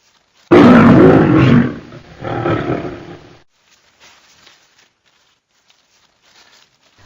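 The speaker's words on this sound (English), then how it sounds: "the sound emitted by a lion's roar" A lion gives one loud, close roar lasting about a second, then a shorter, softer second call, followed by a few seconds of near silence.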